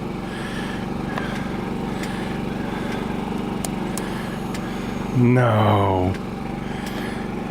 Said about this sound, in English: See if the bike will start.